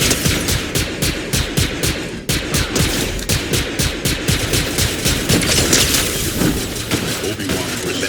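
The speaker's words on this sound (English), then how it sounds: "Obi-Wan's relentless assault rifle barrage." Relentless assault rifle barrage in a Fortnite match, dense rapid gunfire with booming impacts layered over a busy game soundscape, continuous and loud throughout.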